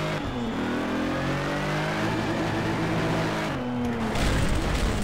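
A race car engine in the racing game Need for Speed Shift 2 Unleashed revs hard and continuously, loud and close, its pitch climbing and dropping through gear changes with a short lift partway through.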